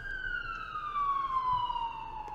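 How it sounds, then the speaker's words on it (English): A single distant siren wails in a slow descending tone, steady and moderately faint across the whole stretch, with light background noise and no talk. "Sirens."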